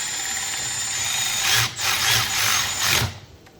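A power tool runs in short bursts tightening bolts on a 7.3L Powerstroke turbo during a rebuild, a steady whir near the microphone followed by a few brief pulses before stopping.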